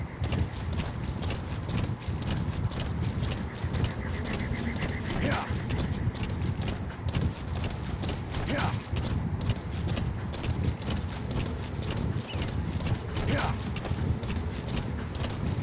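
Steady galloping hoofbeats of a horse in Metal Gear Solid 5: The Phantom Pain, a continuous, driving clip-clop throughout with occasional snorts and game ambience underneath.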